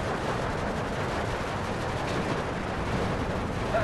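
Mortar fire in Steel Division 2 rumbles as a dense, low battlefield wash of distant thuds and blasts, steady and moderately loud throughout with no voices.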